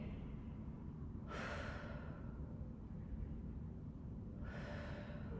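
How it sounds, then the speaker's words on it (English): Two slow, airy breaths, in and out, during a Pilates mat exercise, rising softly over a steady low room hum and fading again, faint and close with no talking. "Let's hold and just breathe."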